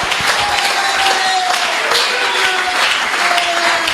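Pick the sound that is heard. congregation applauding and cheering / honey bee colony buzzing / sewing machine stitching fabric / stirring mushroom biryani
congregation applauding and cheering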